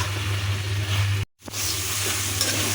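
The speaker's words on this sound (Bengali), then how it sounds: "আমি এভাবে আরও 5 মিনিট কষিয়ে নেব" Beef cooked with coconut sizzles loudly as it is stir-fried in a pan, a steady frying hiss with a brief silent break midway before the sizzle resumes.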